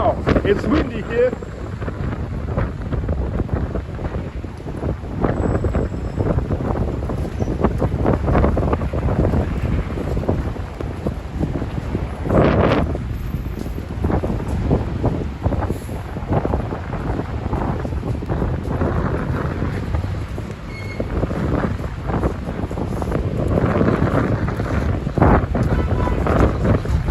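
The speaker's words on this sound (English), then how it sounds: "Wow, it's windy here." Strong winter wind buffeting the microphone in loud, rumbling gusts in St Petersburg, Russia, with faint talk and what may be water underneath.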